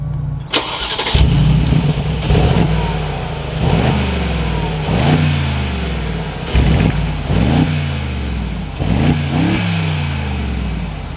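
A Mercedes-AMG G63 engine is cranked and fires up with a sharp catch, then settles into a loud, close idle broken by a series of repeated throttle blips, each rising and falling.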